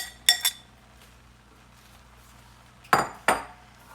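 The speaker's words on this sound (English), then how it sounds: "So now I'm going to add my shrimp in" Shrimp drop into a pot of Haitian seafood lalo made with jute leaves, giving two pairs of short metallic clinks and clatters, the first pair near the start and the second near the end, with quiet pauses between.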